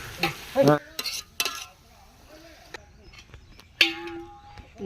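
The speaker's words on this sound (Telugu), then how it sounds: "కూర కోసం నూనె వేసుకొని ఉల్లిగడ్డలు పచ్చిమిర్చి అన్నీ వేసుకుంటున్నాం" Onions and green chillies frying in oil for a large picnic chicken curry, heard as a few sharp stirring scrapes and brief bursts of sizzle among quieter gaps, with a short voice and a tonal beep-like sound near the end.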